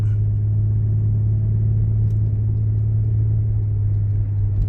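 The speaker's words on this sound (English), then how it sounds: "She may rattle a little bit, a little bumpy, whatever. She still drives like a Lexus." A steady low engine drone and road rumble come from inside a 2004 Lexus RX330 as it drives along after a cylinder misfire repair, even and continuous with no talk.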